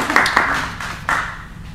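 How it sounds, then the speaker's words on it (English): Audience applause at a live on-stage event, a short burst of clapping greeting the evening's moderator, loud and close, with a few sharp claps rising out of the crowd before it fades. "please give a round of applause for our moderator for the evening"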